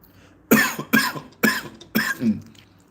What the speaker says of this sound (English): Excuse me as I cough up a storm.